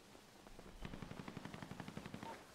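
Rapid automatic gunfire from a video game roleplay shootout near a McDonald's, a steady rattling burst of shots that sounds moderately distant with no talking over it.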